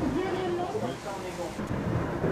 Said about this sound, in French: Avec l'orage, le vent redouble de violence.